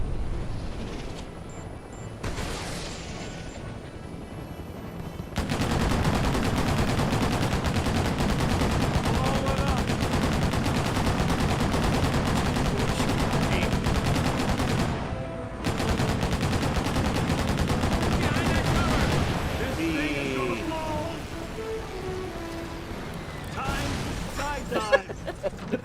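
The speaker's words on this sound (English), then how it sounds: "And whatever that is shooting me from behind" Long stretches of rapid automatic gunfire in the video game Mercenaries 2 rattle continuously for several seconds at a time, dense and loud, broken by short lulls with quieter game sounds.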